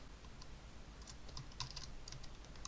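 Code being typed on a computer keyboard, with a quiet, irregular run of soft key clicks close by, no voices over it.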